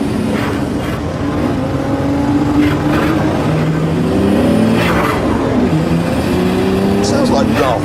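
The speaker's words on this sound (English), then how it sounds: "that's a V10 diesel engine" A car with a V10 diesel engine running, a steady low rumbling drone with the pitch shifting as it revs, heard under people talking over it.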